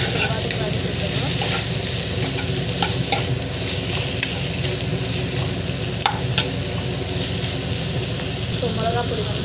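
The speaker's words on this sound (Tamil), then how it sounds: "ஸோ வெண்டைக்காய் ஆட் பண்ணிவிட்டு நல்லா வந்து வதக்கி விட்டுருவோம்." Okra sautéed and stirred in a pan for a South Indian tamarind curry, giving a steady, close sizzle with scraping stirs throughout and no voices.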